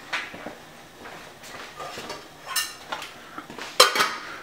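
Pot lid and pan clatter in a kitchen as a lid goes onto a pot of salted water with a splash of olive oil, a few soft knocks building to a sharp metallic clank near the end, close and fairly quiet.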